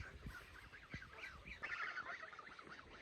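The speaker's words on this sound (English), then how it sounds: "So we're gonna go check out the geese." Geese on a farm in Russia honk repeatedly in a close, noisy chorus of overlapping calls, with a louder burst of honking partway through.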